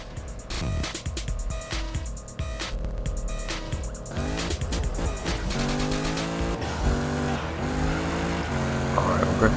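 A 2015 Mustang drifts in Need for Speed 2015. Its engine roars and shifts while long tire squeals sweep up and down across the slide, loud and close, over a dense in-game soundtrack.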